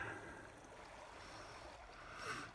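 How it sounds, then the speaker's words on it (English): A small creek flows at night beside a solo elk-hunting camp in Wyoming, heard as a faint, steady wash of running water with no voices. "you can hear the little creek water here by where I'm staying tonight"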